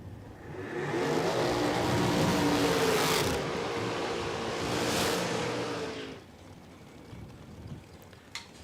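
Drag racing cars, a roadster against a dragster, roar off the line at a raceway in Queensland, Australia: a loud sustained engine blast for about five seconds, swelling twice, then cutting away to distant ambience.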